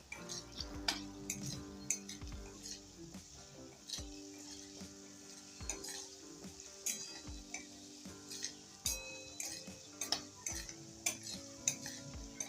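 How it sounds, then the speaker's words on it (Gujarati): Spices being stirred into oil with chillies in a pan, a quiet sizzle under repeated metal spoon scrapes and clinks against the pan at an uneven rhythm, close up, no speech. "તો હવે બધો મસાલો આપણે સરસ રીતના પહેલા મિક્સ કરી લેવાનો"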